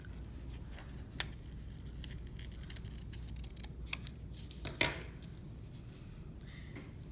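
Scissors cutting a paper piece out for a tessellation: faint intermittent snips and paper rustles close by over a low steady background hiss, with one sharper snip near the end and no talk.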